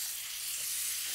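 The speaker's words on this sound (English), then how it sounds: "And just with a fork and a spoon, just want to flip the crepes." Banana crepes sizzle softly in a pan as they are flipped with a fork and spoon, a faint, even frying hiss without speech.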